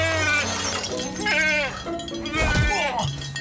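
A goat bleats in several wavering, nasal cries across the clip, close by, with a brief clatter in the middle.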